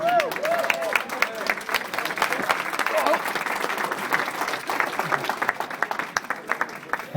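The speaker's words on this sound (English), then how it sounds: "How about a nice round of applause for Isaac?" Wedding reception guests applaud after a best man's toast, a dense burst of clapping from a crowd that runs steadily for several seconds without a break, fairly close and lively.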